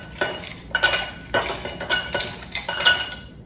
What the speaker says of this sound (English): So then we add some ice to our glass